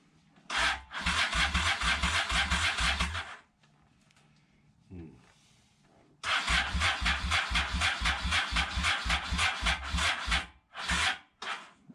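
A weak battery strains to crank the engine of a vintage 1981 Italian motorcycle: two long bursts of rapid, labored churning separated by a pause with brief clicks, loud and close, with a voice speaking briefly.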